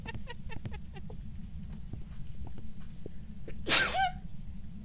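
A single sharp sneeze bursts out near the end, loud and close, after a stretch of quiet clicking and low background hum.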